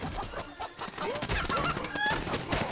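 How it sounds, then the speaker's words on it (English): Chicken clucking in a Fable video game trailer, a run of squawky, wavering clucks over busy background sound with no talk. "the chicken wants to be a bird"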